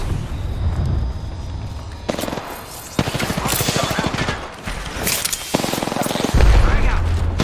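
Video game gunfire: bursts of rapid machine-gun fire and booming shots in a shooter, loud and near, broken by short pauses between volleys, with a voice talking over parts of it.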